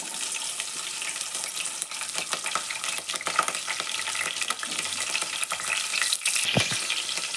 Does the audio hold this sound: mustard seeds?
yes